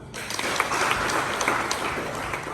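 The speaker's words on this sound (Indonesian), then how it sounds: "Tepuk tangan." Seminar audience clapping together in a hall, a dense, steady patter of hands that sounds fairly close and holds throughout.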